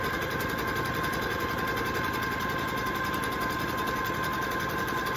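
A sewing machine running continuously while stitching a three-point zigzag stitch into elastic, producing a steady, dense mechanical whir and rapid needle vibration, close and constant with no talking.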